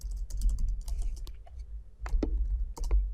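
Computer keyboard typing JavaScript alert code, a quick, close run of uneven key clicks in small bursts with brief pauses, no voices.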